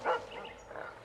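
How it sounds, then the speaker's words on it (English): Dog barking in The Witcher 2 video game, one short, muffled bark that fades into faint ambient sound. "Can you hear it? That's Grindley's dog."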